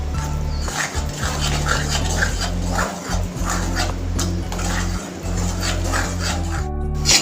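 Semolina roasting in ghee in a kadhai over a medium flame, stirred with a spoon that scrapes and taps the pan in irregular strokes over a steady low hum.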